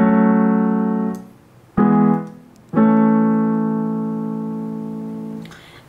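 Left-hand piano chords from the introduction of a song, three sustained chords struck one after another and left ringing, close and clear with no voices.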